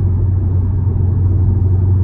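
Audi TTS engine with 310 hp heard from the cabin, a steady loud low rumble with a constant deep drone and no talking.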